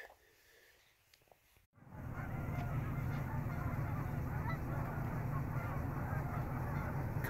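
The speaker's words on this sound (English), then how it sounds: "Coyote over there harassing the geese." A dense, loud chorus of honking geese harassed by a coyote begins abruptly after a quieter opening and continues steadily, a large flock calling together.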